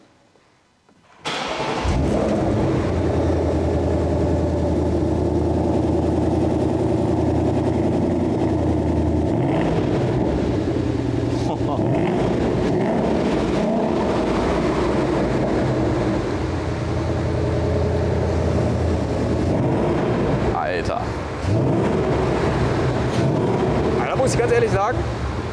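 A Ford Mustang GT with a 5-litre V8 runs steadily, its deep exhaust rumble loud and close, held at a constant idle for most of the stretch, with slight changes near the end.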